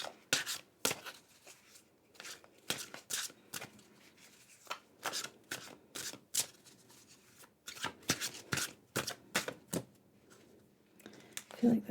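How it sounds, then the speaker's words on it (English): Tarot and oracle cards are shuffled and drawn up close. Crisp, soft flicks and rustles come in irregular clusters against a quiet background. "now I think we're gonna grab you at least one more tarot card"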